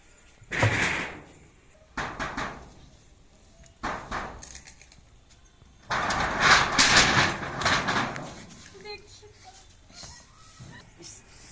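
A gate bangs and rattles shut several times, near and loud, with scraping and clattering in between and faint sounds trailing off.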